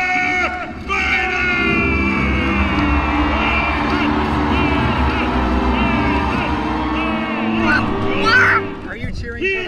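A Renaissance fair joust crowd cheers for a knight, a loud continuous roar of voices with whoops and shouts building toward the end, steady throughout with scattered calls rising above the mass.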